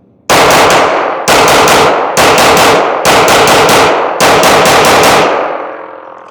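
A Sig P322 .22 pistol fires rapid strings of rounds, very loud and close, in five bursts of several quick shots each with brief gaps between them and a ringing tail at the end.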